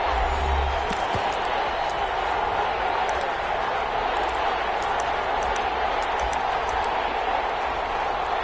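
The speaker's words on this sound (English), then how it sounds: "The crowd getting into it as we come up on a big 3rd down." A stadium crowd at a Falcon football game roars in a steady, sustained wash ahead of a big third down, loud and continuous with faint thumps mixed in.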